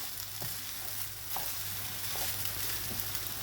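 Mushroom egg fried rice sizzles steadily in a pan, a soft even frying hiss with occasional light stirring scrapes, fairly quiet and close.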